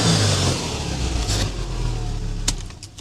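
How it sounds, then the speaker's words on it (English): A 2013 Subaru Impreza WRX STI Spec C with a twin-muffler Blitz exhaust burbles and revs close by, with a few sharp blips toward the end. "It came with a Blitz exhaust here with the 2 mufflers and the center pipe."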